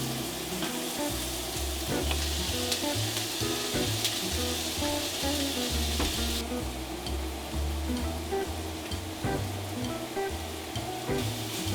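Aromatics and chopped apple for vegan stuffing fry in a pan with a steady, dense sizzle that holds loud and close throughout, no talking over it.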